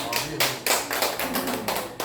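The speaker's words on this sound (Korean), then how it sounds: "박수 한번 드리세요." A burst of applause from a small group, dense and steady clapping with a few louder swells, lasting a couple of seconds.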